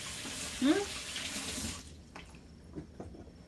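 Water runs in a steady hiss from a kitchen tap for the first couple of seconds and then shuts off, with faint clatter and kitchen noise afterward.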